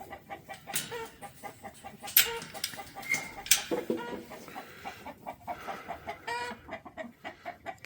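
Several chickens cluck and squawk in an agitated burst as a dog disturbs them, with sharp louder calls rising over a steady clucking chatter nearby.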